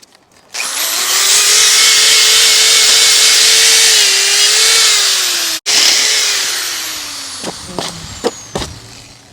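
A power drill bores out frozen peg holes on a snowblower, running loud and steady close by, briefly cutting out, then spinning down with a few scraping knocks as it winds off.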